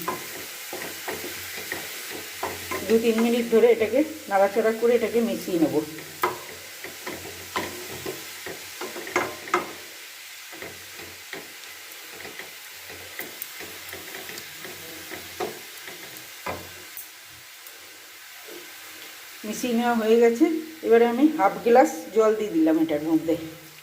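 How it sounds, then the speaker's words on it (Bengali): Raw papaya chutney stirred in a hot pan with spices and salt, a spatula scraping in bursts of clattering, sizzling strokes at the start and end, with someone talking quietly between them. "খুব ভালো করে ফোরনটার সঙ্গে মিশিয়ে নিচ্ছি"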